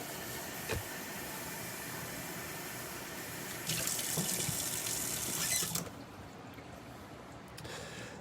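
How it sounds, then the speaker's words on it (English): A kitchen sink tap runs for a few seconds, its hissing water stream rising over a steady background hum as water is collected for painting, then cuts off abruptly. "Gotta get some water here in the sink."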